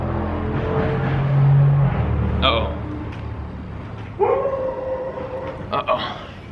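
A dog howls and barks at builders dropping off trim pieces, with a few drawn-out calls and yips over an engine-like low hum, sounding fairly close and loud.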